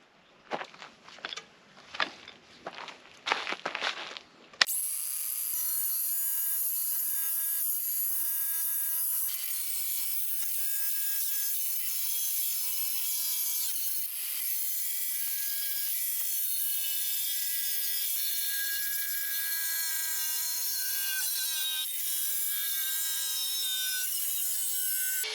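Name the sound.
cutting clay roof tiles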